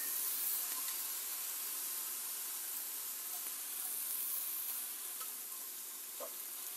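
A steak searing in a pan sprayed with olive oil gives a constant, fairly soft sizzle, a steady frying hiss with no speech over it.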